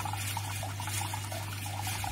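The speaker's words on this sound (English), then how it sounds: "there's the part that runs out back into this bucket, just a little stream" A small stream of water runs from a reflux still's condenser into a bucket, a soft, continuous trickle with a steady low hum underneath.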